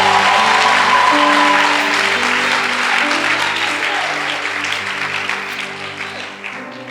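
A church congregation applauds and cheers in praise of Jesus, with loud sustained clapping mixed with voices and shouts, and a held musical tone underneath that slowly fades.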